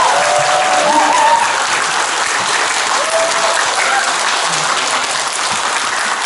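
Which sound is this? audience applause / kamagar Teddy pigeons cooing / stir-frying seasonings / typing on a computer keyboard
audience applause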